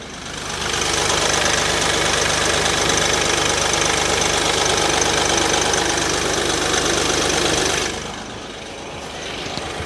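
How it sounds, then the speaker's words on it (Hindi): A Mahindra Bolero SUV's diesel engine idles up close, a loud steady broadband rumble with a faint knocking texture that holds for several seconds, then drops away abruptly near the end. "अब यहाँ पर इंजन का आवाज़ करती है, तो वो इंजन साउंड, वो रोरिंग आपको सुनाई देती है।"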